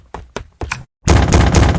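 Three sharp knocks on a door in quick succession, loud and close, followed by a burst of heavier pounding or banging.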